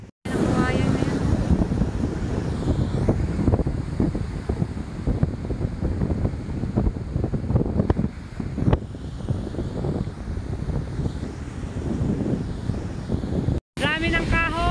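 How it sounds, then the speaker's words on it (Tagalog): Strong monsoon wind roars continuously against the microphone, buffeting loudly throughout with a brief dropout near the end. "Habagat po tayo mga kaprita. Ayan, lakas ang hangin."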